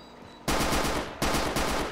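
Automatic gunfire from the shooter game Return to Castle Wolfenstein, played with an HD mod, bursts in loudly after a brief quiet, a long sustained volley with a short break before a second close, continuous burst.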